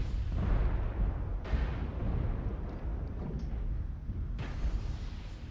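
Missiles exploding in the video game MechWarrior Online: a continuous rumbling barrage with repeated heavy booms at intervals, loud and close throughout.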